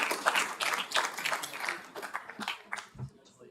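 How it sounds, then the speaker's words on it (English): An audience at a town council meeting claps briefly for graduates. The clapping is scattered and moderately close, mixed with voices talking over it, then thins out toward the end. "Let's applaud."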